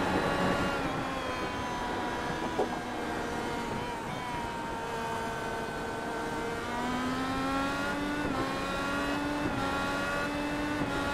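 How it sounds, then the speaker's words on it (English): An Indy car engine in a racing video game at Mosport, screaming steadily against its rev limiter down a straightaway, a sustained high whine with rising and stepping pitch as other cars drone nearby. "you can see on his steering wheel more than tapped out on his rev limiter"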